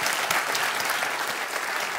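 Sustained applause from a theatre audience at a political debate in Teatro Polski, Warsaw, dense and steady clapping filling the hall for the full stretch.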